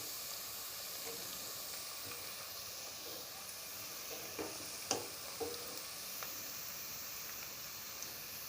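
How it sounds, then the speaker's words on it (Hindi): Garlic and crushed dried coriander frying in a pan, a soft steady sizzle and hiss with a few faint stirring clicks, quiet and continuous. "लहसुन हमारा भुन चुका है।"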